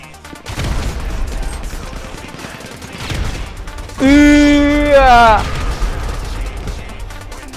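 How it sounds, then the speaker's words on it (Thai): Gunfire and a blast ring out in a GTA V battle match, heavy bursts of shots crackling loudly while a player shouts over the action. "โอ้ยระเบิด"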